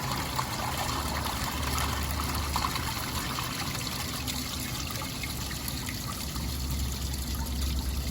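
Water from a hose runs steadily into an RV black water tank during a flush, a continuous trickling and gurgling flow with a low hum beneath it and no speech.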